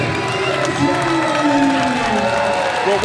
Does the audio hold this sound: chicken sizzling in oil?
no